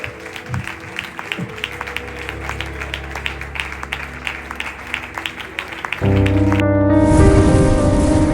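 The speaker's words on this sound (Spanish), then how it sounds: "Un aplauso al Señor." A congregation claps during a church service in Oviedo: steady, crisp applause for about six seconds before loud music takes over and drowns it out.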